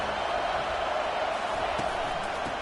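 Crowd at a college football stadium roars in a steady, dense wash of cheering and shouting, distant and continuous with no clear breaks.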